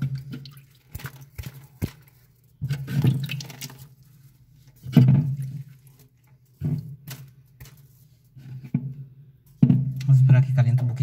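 Drops of water hit a hot refrigerator heating element, giving short sizzling hisses in repeated bursts over a steady low hum, with someone talking between them.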